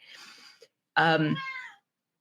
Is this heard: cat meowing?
yes